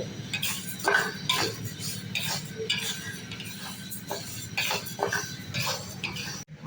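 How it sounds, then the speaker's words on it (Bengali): Lentils fry in a pan for khichuri as a spatula scrapes and stirs, giving repeated clinks and scratches over a soft sizzle. "এরপর ডাউল ভেজে নিবে"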